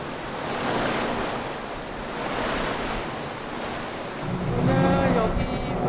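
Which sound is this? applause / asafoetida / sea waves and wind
sea waves and wind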